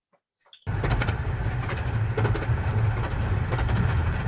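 Romney, Hythe and Dymchurch Railway miniature train running, a steady loud rumble and clatter that starts abruptly after a brief quiet moment and continues evenly throughout.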